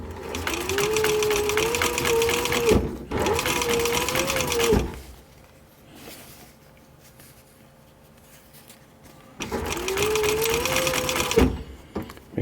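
Stitching a military patrol cap, a sewing machine whirs in three short bursts of steady, close buzzing. A quiet pause of several seconds separates the second burst from the last.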